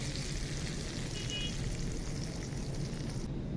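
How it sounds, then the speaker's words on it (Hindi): Steady, fine crackling sizzle of tadka tempering in ghee for dal, continuous and fairly quiet throughout, with no voices. "चले जी तड़का लगाते हैं दाल को।"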